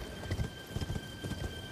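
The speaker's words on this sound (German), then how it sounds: "ich gehe jetzt hier auf dem Pferdchen einfach entlang" A horse ridden through Elden Ring: Shadow of the Erdtree walks at an easy pace, its hooves thudding in a steady four-beat clip-clop, close and moderately loud over a faint ambient hum, with no speech.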